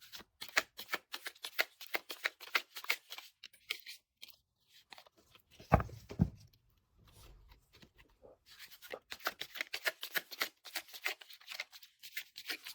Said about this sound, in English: Okay, I'm gonna shuffle now.